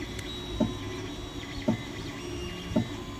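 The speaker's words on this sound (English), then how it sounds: "my extruder's clicking." A 3D printer extruder clicks during a test print, three sharp, evenly spaced clicks about a second apart over the steady hum and whine of the running printer.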